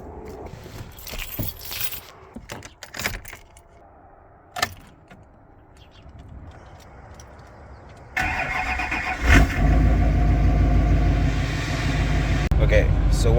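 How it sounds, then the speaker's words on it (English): A Duramax diesel pickup truck starts up and settles into a loud, steady idle while warming up, preceded by keys jangling and some handling noises, with brief talk early on. "so while we let the truck warm up"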